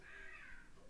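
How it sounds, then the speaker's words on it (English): Rooks and crows cawing in the background, a faint continuous chorus of calls carried at a distance with no talk over it. "I can hear the rooks and crows now a little bit."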